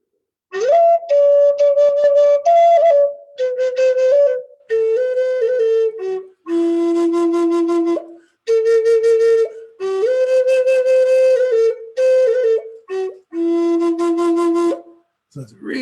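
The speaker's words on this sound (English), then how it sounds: "And I'm going to play the melody first on the flute." A short melody on a flute, played alone in clear, sustained phrases with brief pauses between the notes and phrases, close and bright.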